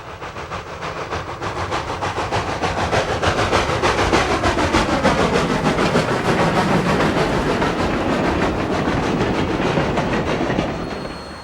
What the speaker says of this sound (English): This eastbound train cuts the diamonds at Butler, Pennsylvania.